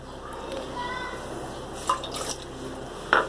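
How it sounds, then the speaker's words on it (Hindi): Water poured from a cup into a pan holding two cups of sugar for a syrup, with a soft trickle and a couple of brief splashy drips standing out over a low background hum. "1/4 कप पानी डालूंगी इसमें।"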